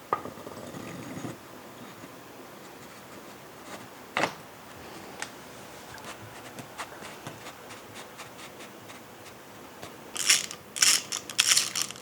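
Fork bolts being snugged on a KTM 350XCF dirt bike triple clamp, faint scattered metallic clicks and ratchet ticks with a brief louder clatter, then a quick burst of rapid ratcheting near the end.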